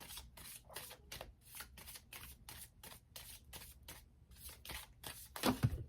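Tarot cards being shuffled by hand in a steady rhythm of quick riffling bursts, close and fairly quiet, with a louder rustle near the end and no talk.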